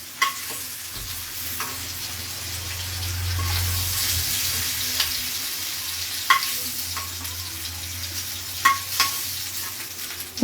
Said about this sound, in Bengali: পনিরটাও আমার ভাজা হয়ে গেল